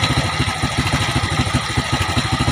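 A motorcycle engine idles unevenly close up during carburetor tuning, its pulsing beat loping and wavering as if about to stall, with no other sound over it.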